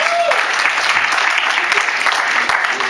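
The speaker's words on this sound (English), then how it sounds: "let's probably get a better round of applause" Audience applause fills a live comedy talk at a 2010 event, a steady, dense clapping wash that stays loud and close for the whole stretch with no voices on top.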